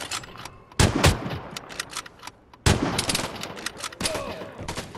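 L96 sniper rifle shots in the video game Vigor Shootout boom loudly at close range, with two big reports and a smaller third blast, each trailing into rumbling, echoing gunfire.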